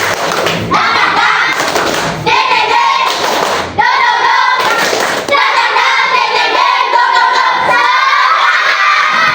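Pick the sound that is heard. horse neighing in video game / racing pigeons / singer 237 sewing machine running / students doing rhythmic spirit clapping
students doing rhythmic spirit clapping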